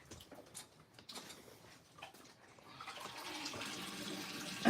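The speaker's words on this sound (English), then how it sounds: "excess water, drain out" Excess water drains out of freshly dyed puppet fleece as it is lifted and squeezed, starting with faint scattered drips and building into a steady, close splashing trickle that swells toward the end.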